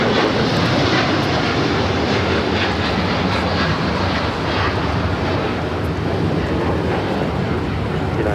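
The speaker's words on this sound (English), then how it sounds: "that flight heading to Tokyo Haneda on that 787-10 Dreamliner" A United Boeing 787-10 Dreamliner, delivered in November 2022, departs LAX for Tokyo Haneda with a loud, sustained, close jet engine roar that stays steady throughout.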